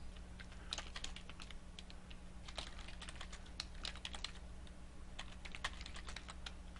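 Quiet, rapid typing on a computer keyboard while entering C++ code, irregular bursts of soft key clicks over a low steady hum, with no voice.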